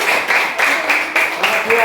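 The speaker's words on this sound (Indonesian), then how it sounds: "Tepuk tangan untuk nomor 1." A classroom full of students claps hands together in brisk, rhythmic bursts, loud and close, with voices mixed into the applause.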